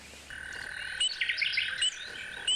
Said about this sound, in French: entouré d'une végétation luxuriante et peuplée d'oiseaux qui gazouillent